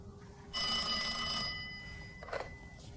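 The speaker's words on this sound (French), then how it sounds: "Vous pouvez me rappeler, je veux voir si la ligne fonctionne." A telephone rings on a returned call, one sustained electronic bell ring for about a second, close and clear, followed by a brief softer clatter, with no voices.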